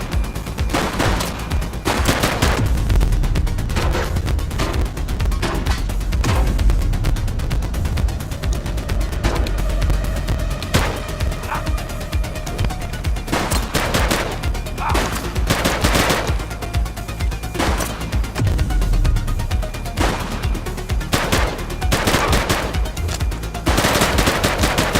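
Police shootout in the video game The Precinct, with dense bursts of automatic gunfire and single shots crackling in rapid volleys, loud and nearly continuous for twenty-five seconds.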